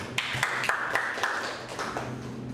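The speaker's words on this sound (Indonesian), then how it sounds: "Kita tepuk tangan dulu." A classroom audience claps hands in an evenly paced run of distinct slaps, moderately loud and steady, with no talk over it.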